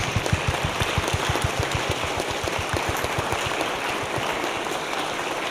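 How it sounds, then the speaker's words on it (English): Audience applause for junior members of a youth symphony at a chamber music concert in a Presbyterian church, a thick continuous patter of many hands filling the room with a low rhythmic thumping beneath. "Can I please have all of our junior members stand up for me? Yes, let's applaud them."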